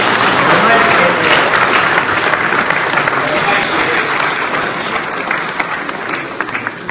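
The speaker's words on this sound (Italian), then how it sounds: "Io gli farei un applauso grande." A large audience applauds loudly and steadily at a civic ceremony honouring a 106-year-old marshal in Garessio, the dense clapping slowly thinning toward the end.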